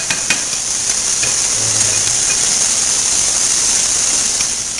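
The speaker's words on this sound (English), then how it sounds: "I'm going to go ahead and get my onions started here" Onions sautéing in a pan for macaroni and cheese give a steady, loud sizzle that runs unbroken from start to finish, with a few faint clicks near the beginning and no talking.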